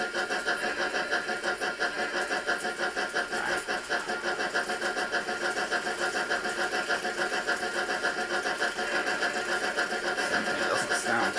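N gauge model train running around a track, giving a steady mechanical whirring and rattling hum that continues at an even level throughout, with no gaps.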